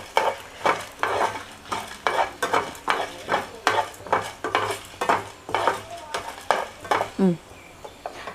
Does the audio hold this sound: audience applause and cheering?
no